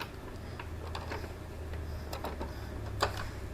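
An Epson L3110 inkjet printer running a power ink flush cleaning cycle, giving soft mechanical ticks and clicks over a steady low motor hum at close range, with a sharper click near the end.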